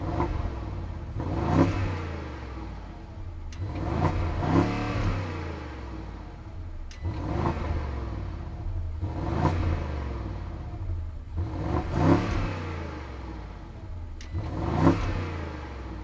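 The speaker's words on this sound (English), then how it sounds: "it's connected to an M Sport exhaust system. So let's listen to that and hear how it sounds." A 2018 BMW 750i with the M Sport exhaust system revs repeatedly, sounding as five or six loud, rising engine bursts spaced a few seconds apart over a steady idle rumble, with no voices.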